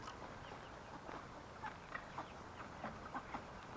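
Faint, soft clucking from chickens in short intermittent bursts over a low background hiss.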